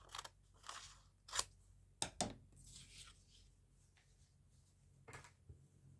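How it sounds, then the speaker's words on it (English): Scissors snip through paper while fussy cutting around a printed flower border, a handful of faint, crisp cuts in an uneven rhythm with quiet gaps between them. "Scissors."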